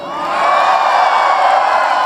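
A large, enthusiastic crowd at a Bernie Sanders campaign rally in Los Angeles cheers and whoops, swelling from the start into a loud, sustained roar of voices.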